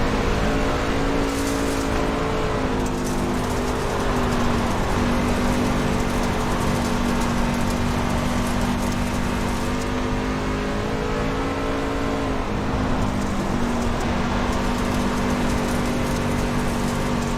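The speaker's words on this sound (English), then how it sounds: "as they go by some lap trucks there on the outside" Racing trucks roar past on a dirt track, with engines droning and surging continuously and loudly throughout, without any talking.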